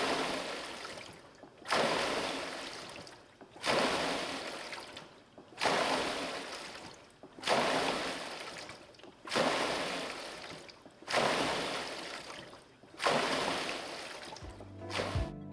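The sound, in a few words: King Smith WR1 water rowing machine water sound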